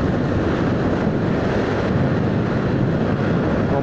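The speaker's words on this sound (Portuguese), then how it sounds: "O vento aqui é grande." Strong wind roars past a rider on a Yamaha Factor 150 motorcycle cruising the BR-304 highway in Rio Grande do Norte, a loud, unbroken rush of air noise with no voices.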